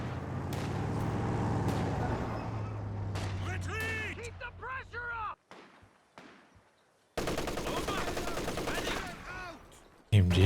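Machine gun fire in the strategy game Company of Heroes 2 during a 2v2 match, bursts of rapid rattling shots under commentary, with quieter gaps and fresh volleys later on.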